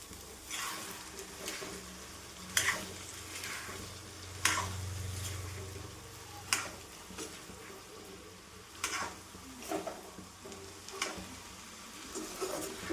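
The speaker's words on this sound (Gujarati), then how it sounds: "મીઠું નાખીને આપણે હવે આને હલાવી નાખશું" Corn chevda fries in oil with a quiet, steady sizzle, broken by a series of distinct stirring scrapes and clinks of a spoon against the pan at irregular intervals. No one speaks over it.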